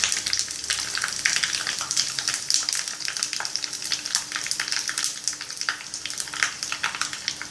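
Mustard seeds, pepper, cumin and asafoetida tempering in hot ghee, a loud dense crackling sizzle with rapid popping throughout, close and without voices.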